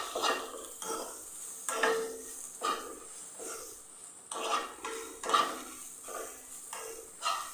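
Banana and grated coconut are stirred as they roast in ghee in a pan, giving repeated scraping strokes of a spoon against the metal in a steady rhythm, close and moderately loud, with no talk.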